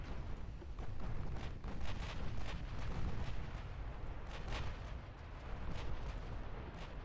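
Naval gunfire from warships in the video game Ultimate Admiral Dreadnoughts, with a dense, continuous rumble of distant cannon fire and repeated booms spread across the whole stretch, no voices present.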